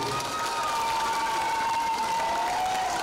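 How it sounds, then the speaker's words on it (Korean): Steady applause and some cheering from a crowd at a girls' middle school alumni reunion in Hamyang, a continuous clapping wash with a faint tonal hum running beneath. "박수 한번 쳐주십시오."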